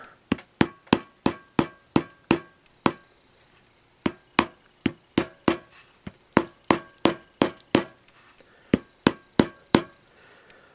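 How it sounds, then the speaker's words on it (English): Steady, sharp tapping with a hard plastic hammer on a vintage Kwik Kool fan being repaired, about two strikes per second, close and loud, with one short pause partway through. "Went a little faster with the plastic hammer."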